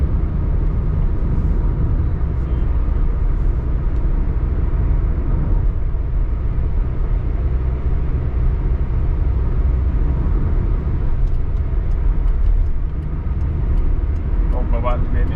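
A car's engine hums steadily from inside the cabin during a driving lesson in heavy traffic, a continuous loud low rumble of engine and road noise with the instructor's voice faintly over it.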